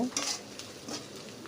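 Onion and ginger spice mixture sizzling as it fries in a pan while being stirred, with soft scraping strokes over a steady low crackle, close by and fairly quiet.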